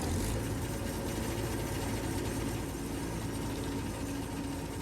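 An old harvester engine with its compartment open runs at a low, steady rumble, a dense vibrating drone with no voices.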